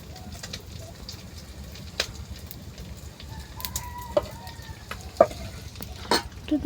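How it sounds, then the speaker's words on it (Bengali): Chili and coriander are stirred in a frying pan with a soft sizzle and scattered utensil scrapes and clicks, while a chicken clucks now and then in the background. "নাড়া দিয়ে নি"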